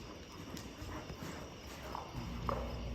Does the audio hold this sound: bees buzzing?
no